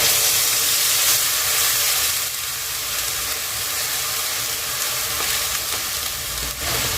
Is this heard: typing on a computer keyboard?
no